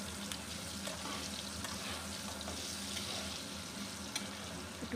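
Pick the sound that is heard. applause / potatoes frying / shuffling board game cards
potatoes frying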